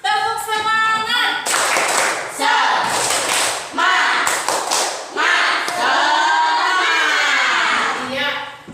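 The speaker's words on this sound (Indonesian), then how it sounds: "Bersama-sama tepuk semangat." A school class in an Indonesian classroom performing the rhythmic tepuk semangat clapping cheer, with patterned claps and children's chanting voices close by, loud and continuous, alongside a teacher's voice.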